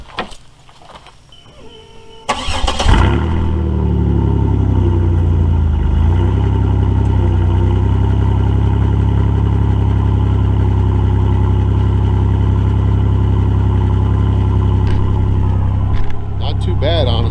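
A Buick single-exhaust car engine starts and runs with no muffler, a loud, steady, deep rumbling idle that holds close and constant for about fifteen seconds, with a brief dip near the end.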